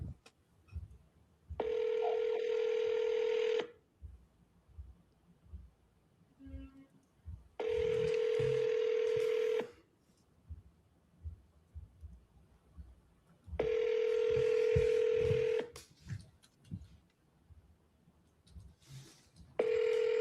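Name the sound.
telephone dialing tones while calling sellers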